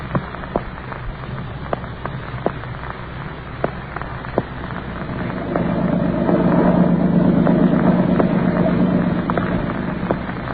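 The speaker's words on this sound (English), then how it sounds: "the boat as it skims over the lake toward the mainland" A motorboat engine drones steadily as the boat skims across a lake, swelling louder and fuller partway through, with faint periodic ticks over the hum.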